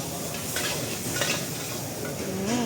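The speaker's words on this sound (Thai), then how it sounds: "ผัดน่ากินนะคะร้อนๆเลย เอาพริกกระเทียมลง" Chili and garlic being stir-fried in a hot pan for Thai basil stir-fry at a night market stall, a dense continuous sizzle with scraping spatula strokes and light metallic clinks, close up.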